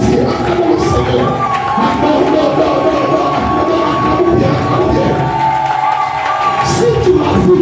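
Church congregation at a service led by a pastor from Côte d'Ivoire cheering and acclaiming God, a loud, sustained crowd roar with shouts and whoops filling the room throughout.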